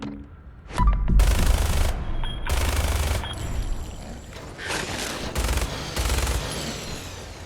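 Bursts of gunfire from Fallout 4 combat in an underground area, several loud rapid volleys separated by short pauses, sharp and booming against a low ambient hum.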